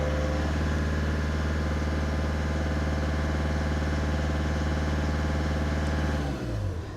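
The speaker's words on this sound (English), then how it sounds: "I can now rev it at different values." A Volkswagen Polo engine runs steadily and close, held at a constant mid-range rev with a smooth droning hum for several seconds before abruptly dropping off near the end.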